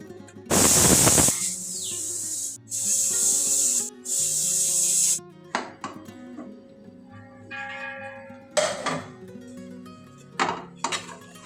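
A mixer grinder grinds coconut, shallots and fennel with water in loud, harsh bursts of whirring, several short runs separated by pauses, followed by clinks and handling noises.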